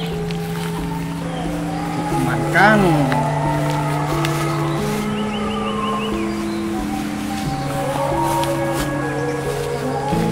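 A motorcycle engine hums and shifts pitch nearby under a steady background murmur, with a brief revving rise partway through while a person speaks.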